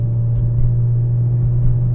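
A 1998 BMW 528i cruises down the road, giving a steady, smooth low engine and road hum from inside the cabin without any voices.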